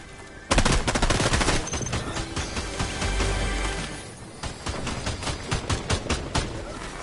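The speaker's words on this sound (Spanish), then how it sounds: "Alguien me está disparando ya." Rapid gunfire from a Fortnite match, dense bursts of shots crackling close and loud for several seconds, with a brief lull before more scattered shots resume.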